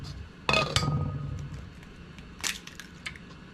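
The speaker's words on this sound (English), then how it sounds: "good thing I was going to crack that egg" Eggs are cracked for zucchini bread batter, giving a sharp crunch of shell followed by a few lighter clicks and a second cluster of taps, close and clear without speech.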